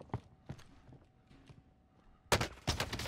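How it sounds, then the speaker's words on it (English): Warzone gunfire in a battle royale match: a few scattered shots early, then a loud close burst of rapid shots near the end, with no voices in between. "Taking fire here!"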